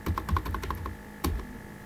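Computer keyboard keys tapped during Tally ERP 9 accounting data entry: a quick run of close, crisp clicks, then a pause and one louder press, with no voices.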